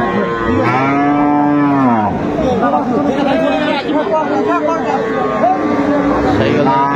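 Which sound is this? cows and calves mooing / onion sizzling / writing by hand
cows and calves mooing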